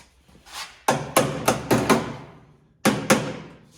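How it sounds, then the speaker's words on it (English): Sharp metallic hammer taps on a 1970 GMC truck cab, a few spaced strikes then a quick run of four, pausing before two more, close and fairly loud with ringing decay. "Maybe give it a few little taps with the hammer."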